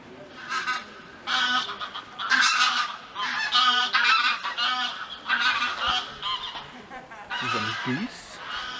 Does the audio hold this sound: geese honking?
yes